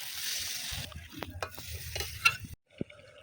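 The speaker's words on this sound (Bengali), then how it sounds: "এবার আমি একটু জল দিয়ে দেবো।" Brinjal curry frying in a pan as water is poured in, a broad hiss and sizzle with spoon scrapes, cutting off abruptly near the end, followed by a brief knock.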